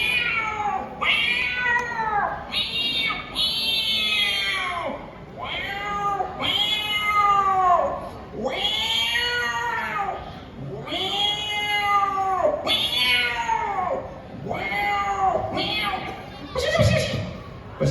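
A man imitates a cat yowling after being dunked in cold water, a long string of loud, drawn-out wailing meows rising and falling, each cry separated by brief pauses.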